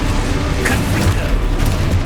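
Confringo fire spell blast in Hogwarts Legacy, a loud, continuous booming roar with crackling bursts, close and heavy throughout the short stretch.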